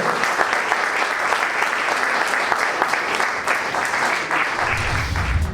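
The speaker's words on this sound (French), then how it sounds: "On applaudit fort, on applaudit fort." A crowd at a first-anniversary celebration applauds loudly and steadily, dense clapping close by, with a low rumble swelling near the end.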